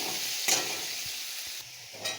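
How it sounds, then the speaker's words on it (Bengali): Potatoes with salt and a little turmeric fry in oil with a steady sizzle. Light stirring and a few soft utensil taps come through, including a brief clink early on. "আলুর মধ্যে দিয়ে দেবো একটু লবণ আর খুব সামান্য পরিমাণে একটু হলুদ দিয়ে আলুটা আমি একটু ভেজে নেব।"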